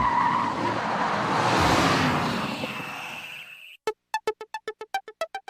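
A Mercedes SLS AMG supercar in the PlayStation racing game Gran Turismo 5 roars and skids with squealing tyres, fading out over a few seconds, then a quick run of short, evenly spaced electronic beeps follows.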